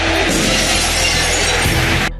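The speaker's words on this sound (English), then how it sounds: "I know the exact moment the glass shatters" Glass shatters in a WWE entrance theme, one loud, dense, continuous crash of breaking glass that cuts off abruptly.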